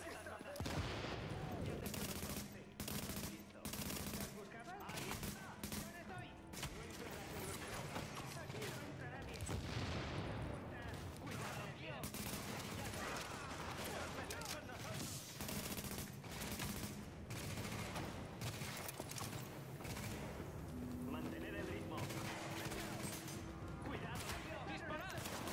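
Gunfire from enemies in the video game Tom Clancy's The Division: rapid automatic bursts and repeated shots crackling throughout, mixed with impacts and booms, with voices talking over the combat.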